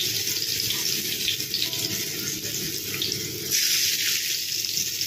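Frozen mushrooms are rinsed under warm running water from a kitchen tap, giving a steady, close hiss of flowing water into a sink that continues without pause.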